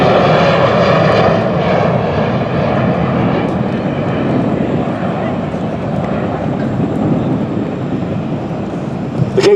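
A Boeing KC-135 military tanker taxis out onto the runway, its jet engines a loud, steady, broadband roar that holds constant the whole time, with no voices heard.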